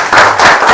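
An audience at a church gathering bursts into brief, loud applause, a dense wash of clapping lasting under a second.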